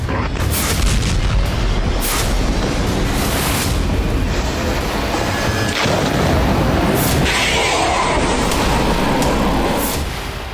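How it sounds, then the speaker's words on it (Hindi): Israeli air force bombardment in Lebanon produces a dense, continuous roar of heavy booms and rumbling blasts, loud and sustained throughout, with no clear gaps between the impacts. "आईडीएफ की बमबारी से लेबनान की धरती 3 दिनों से पूरी तरह से दहल रही है।"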